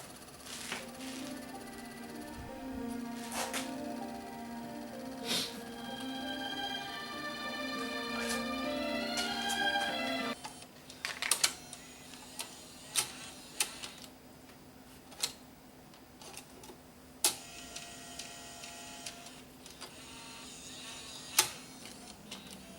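A Bose Music System CD changer that was dropped spins disc number 3, giving a steady mechanical whir with a low hum, then a run of sharp ticks and clicks from the deck.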